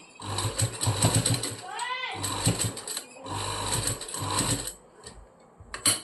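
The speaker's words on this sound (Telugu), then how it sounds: "దీని పక్క నుంచి చక్కగా స్టిచ్ చేసుకుంటారండి" A sewing machine stitches fabric piping using a normal presser foot, giving bursts of rapid mechanical whirring that stop and start, close up, with someone speaking between and over the runs.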